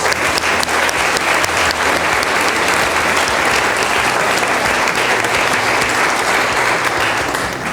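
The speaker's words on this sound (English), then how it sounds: "Let's give them a round of applause." Audience applause for teachers at a community arts center amateur exhibition, a sustained, loud burst of many hands clapping at an even level for several seconds, with no speech over it.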